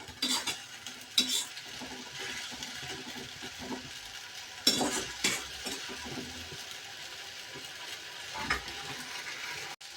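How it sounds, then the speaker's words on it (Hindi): Ginger garlic paste frying in a pan with a spatula stirring it, steady sizzle and crackle broken by sharp scraping strokes, close and moderately loud, no talking. "और अब ये अदरक लहसुन का पेस्ट भी भून गया है।"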